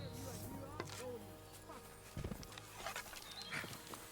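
Horse hooves in the video game Kingdom Come Deliverance 2: a few soft, uneven clopping thuds, faint and mixed with game ambience, while a voice speaks over them.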